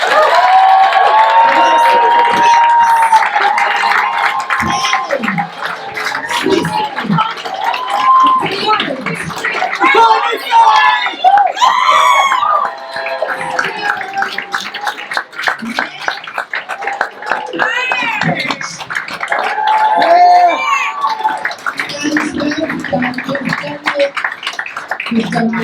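Comedy show audience giving a big round of applause with cheers and whoops, a loud sustained crowd roar mixed with clapping, with voices shouting over it.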